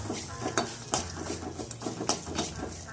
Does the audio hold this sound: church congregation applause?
no